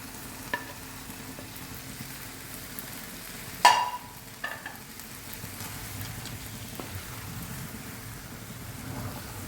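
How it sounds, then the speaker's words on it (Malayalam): Eggplant for baingan bharta fries in a pan, with a low steady sizzle under close clatter as it is stirred, one sharp loud scrape of the spoon near the middle and softer knocks after it. "നന്നായി ഇളക്കി കൊടുക്കുക."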